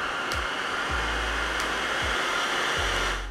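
A Miele Triflex HX1 Pro cordless cyclonic stick vacuum runs with a steady, loud, close whine and airy rush, broken by a few low thumps as the head moves, with no talking.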